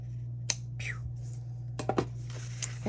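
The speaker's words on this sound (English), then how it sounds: "You can take ribbon scissors and just trim that." Ribbon scissors trim ribbon on a spooky-themed craft bag, giving a few short, crisp snips close to the mic, with quiet pauses between them.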